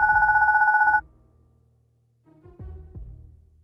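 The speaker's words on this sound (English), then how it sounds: "Oh, my baby phone's ringing." A telephone rings in the Goodbye Deponia video game, a loud, warbling electronic ring lasting about a second, followed by quiet and a few soft low thumps.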